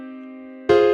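A sustained chord held steady for about two thirds of a second, then a brighter, louder chord sounding at the end, both clean, close and without voices.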